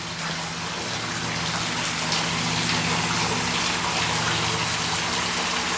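Water flowing steadily near a cave or spring site in Kentucky, a continuous rushing, splashing wash that holds at an even, fairly loud level throughout with no talking.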